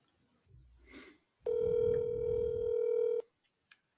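A telephone dial tone sounds for under two seconds while phoning a friend, a steady clear electronic tone that is loud and close after a brief faint noise.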